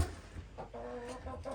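Chickens in a snowy-day backyard coop lit by a heat lamp, clucking softly in short, quiet bursts close by.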